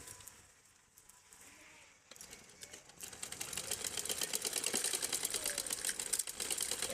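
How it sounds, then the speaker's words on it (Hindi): A sewing machine stitches cloth, starting quiet and hesitant, then settling into a loud, rapid, steady mechanical clatter that runs close by for the second half. "ये देखो मैं सिलाई सीख रही हूँ"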